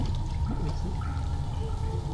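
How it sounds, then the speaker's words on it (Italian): Water flows down in Amnesia: The Dark Descent as a steady, close rushing wash with a low rumble, continuous throughout with no voices. "E hai fatto scendere l'acqua"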